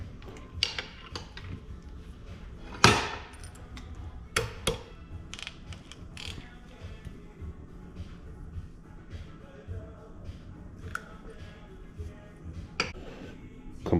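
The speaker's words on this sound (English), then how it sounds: "attempt is to use this stud extractor set that I've had, but I don't know how well it's going to go with brass" A stud extractor set worked on a brass stud during assembly of a Mack MC cabover truck, faint metallic taps, clicks and ratcheting at irregular intervals, with one louder knock early on and a quiet workshop background.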